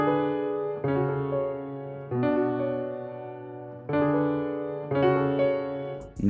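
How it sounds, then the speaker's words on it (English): Soft, muted piano keys from Spitfire Audio's soft piano play a slow sequence of sustained chords, each struck gently and left to ring before the next, intimate and close with no other sounds. "I started off with these keys right here from Spitfire Audio's soft piano."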